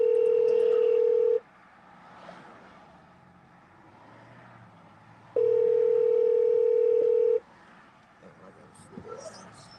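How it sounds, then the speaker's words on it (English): A telephone line on a call being placed gives two long, steady tones separated by a quiet pause of several seconds, with faint background noise in between. "Let me call Cuz back"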